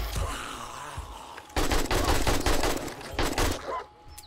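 Bursts of rapid AK rifle fire in the zombie survival game 7 Days to Die during horde night, loud, close, and stacked into repeated volleys across the second half with a muffled, rumbling stretch before them.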